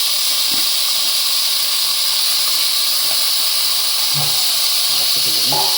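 Mutton pieces with salt hitting hot fat in a pan for village-style mutton chops, a loud, steady, hissing sizzle that runs unbroken, with faint clinks and a voice talking underneath.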